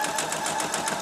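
A sewing machine runs a basting stitch through three layers of slipper fabric, giving a steady, fast mechanical whir with rapid regular needle pulses, close and moderately loud, with no talking.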